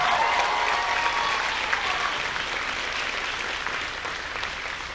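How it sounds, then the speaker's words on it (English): A round of applause from the audience for Carolyn McKenzie, a church gathering of many hands clapping, steady and moderately distant, slowly tapering over several seconds. "Big round of applause"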